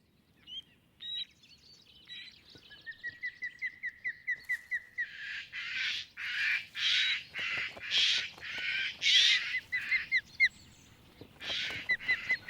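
Jays give harsh, repeated screeching calls while mobbing ospreys near their breeding site by a clear lake. The loud rasping cries come in a rapid rhythmic series, close and prominent, with some thinner whistled notes mixed in and no talk.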